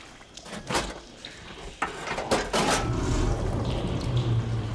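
Water rushing and splashing in Horizon Forbidden West after a valve switch is flipped, a steady watery wash rising from about two seconds in and continuing under faint metallic clinks.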